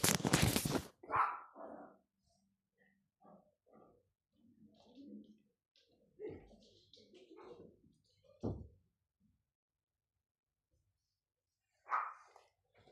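A dog indoors barks and yips in short, scattered bursts at moderate distance, with a loud burst at the start and quiet gaps between the barks.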